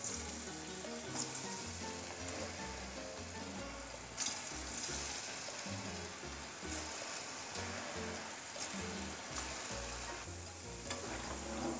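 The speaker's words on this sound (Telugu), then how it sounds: "ఇది ఒకటొకటిగా డీప్ ఫ్రై చేసుకోండి." Potato pieces for potato manchurian deep frying in hot oil, a steady, dense sizzle and crackle that stays loud and close throughout, with no voices.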